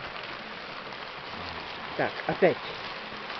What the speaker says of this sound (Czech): no to prší hodně